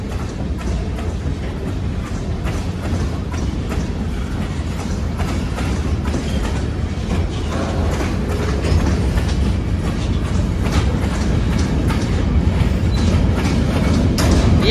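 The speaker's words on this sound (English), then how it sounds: "Yep, here comes in the train" Marquette Rail freight train rolling northbound at a rural road crossing near Bitely, Michigan, a loud, close, continuous rumble with rhythmic clickety-clack of wheels over rail joints, slowly building as it passes.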